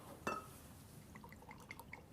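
A small splash of water is poured into a glass of whisky, one brief close trickle near the start, followed by quiet room tone.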